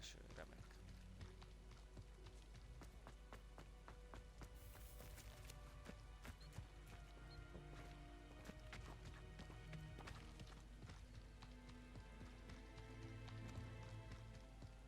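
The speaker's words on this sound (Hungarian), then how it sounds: "Esik az eső, remek." Steady rain falls in Hogwarts Legacy, a constant broadband hiss spread across the whole scene, with soft footstep-like taps and faint voice sounds mixed in.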